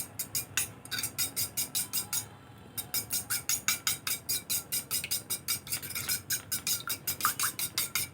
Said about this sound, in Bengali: লবণের সাথে ডিমটা খুব ভালো করে মিশিয়ে নেব।